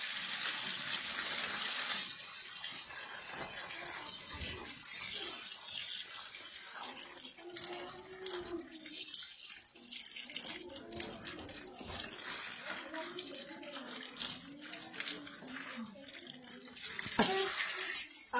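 Cut pieces of petha, the ash gourd used for the sweet, are rinsed under running tap water. The stream hisses steadily and splashes, with occasional clinks and knocks against the vessel throughout.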